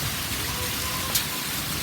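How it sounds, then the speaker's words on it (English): Heavy rain mixed with hail pours down in a dense, steady hiss, with a brief sharper tick of an ice ball striking a surface near the middle. "It's hailing in May."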